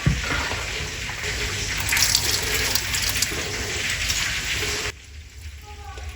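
Water draining and splashing steadily from washed radish leaves in a home kitchen, a continuous rushing pour that cuts off abruptly near the end, leaving quieter room sound.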